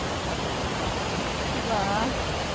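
A river flows beside a forest hiking trail in Olympic National Forest, a loud, steady broadband rush of water filling the whole clip, with a faint voice briefly audible underneath.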